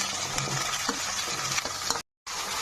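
Green chillies and potatoes fry in a pan while being stirred, producing a loud, constant sizzle with soft scraping underneath, cut by a short moment of total silence near the end before the sizzle resumes.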